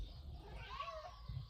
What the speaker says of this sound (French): j'ai un chat qui est devant ma porte et qui hurle